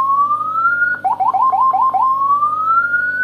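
Electronic horn tone from a Landun six-sound 60-watt motorcycle siren module, a loud rising whine broken by a rapid burst of chirping yelps before climbing steadily again.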